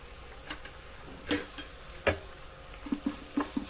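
Spiced rice with garam masala, crushed cumin and turmeric being stirred in a pan, with sparse scraping clacks of the spoon against metal over a faint background hiss.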